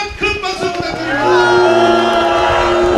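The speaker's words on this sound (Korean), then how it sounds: "여러분 다시 한번 큰 박수 부탁드립니다." An outdoor crowd at Jinju Central Market cheers and shouts, building into sustained, loud noise after a brief stretch of voices, heard close by with talk mixed in.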